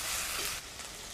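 Chopped onions frying in a pan with garlic paste added, a steady close hiss that softens slightly partway through.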